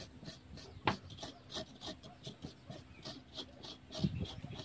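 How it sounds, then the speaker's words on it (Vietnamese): A sharp kitchen knife scrapes taro stems in steady, repeated rasping strokes, fairly close and continuous throughout. "Nếu mọi người có một cái dao thái mà bén á mọi người thì cạo sẽ nhanh hơn."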